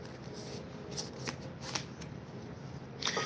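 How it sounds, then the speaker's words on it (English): A deck of tarot cards is shuffled close by, giving soft papery riffles and flicks with a few sharper snaps, fairly quiet and without speech. "Oh no, I shuffled the deck."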